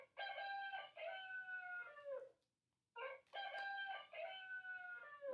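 A rooster crows twice, each a long harmonic cock-a-doodle-doo call, close and clear, with a short silent gap between the two calls.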